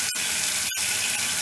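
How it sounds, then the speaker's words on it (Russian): Water runs steadily from a shower tap being turned, a loud continuous gush with two brief breaks in the flow. "Сейчас я поворачиваю кран"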